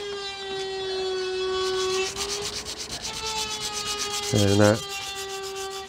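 Power sanding on a fibreglass boat hull under repair for impact damage, a steady whining tone from the sander with rough abrasive rasping that shifts pitch as the tool moves. A brief burst of louder grinding comes near the end, and one short word is spoken.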